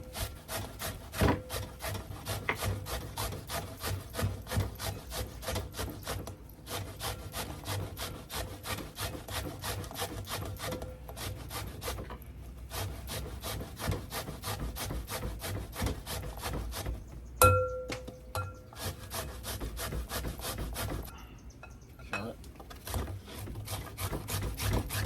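Hand-grating food for watermelon jerk chicken makes a steady rhythmic scraping, many quick regular strokes back and forth with a few brief pauses, close and moderately loud, with no talk.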